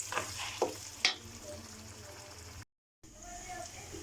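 Eggs frying in a pan while being stirred for egg khagina, a few scraping stir strokes over a steady low sizzle, close by, with a short silent gap near the end.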